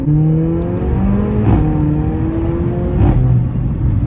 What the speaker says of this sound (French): Allez, dernière petite accel.